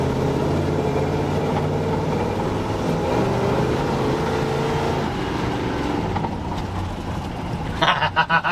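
A 1969 GMC truck engine with a Holley carburetor and secondary quick change kit drones loud and steady under throttle, rising slightly in pitch, with a sharp rattling burst near the end and no talking.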